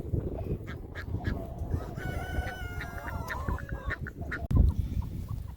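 Chickens on a farm cluck and call in a loose flock, with honking, goose-like cries and a brief crow rising over steady outdoor noise and a thump near the end; the birds sound moderately close.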